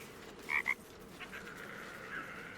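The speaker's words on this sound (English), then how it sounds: "It is actually a frog." A frog in Baldur's Gate 3 gives two quick, close croaks in succession, followed by softer, fainter calls over a quiet ambient background.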